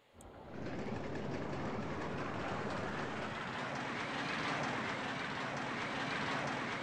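In the RollerCoaster Tycoon 2 video game, a roller coaster train rumbles along its track, a dense continuous rolling roar that swells up quickly and holds steady.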